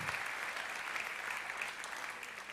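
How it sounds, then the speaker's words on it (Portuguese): A church congregation claps continuously at moderate volume, a dense, even patter of applause heard from some distance throughout. "Você pode aplaudir ao Senhor."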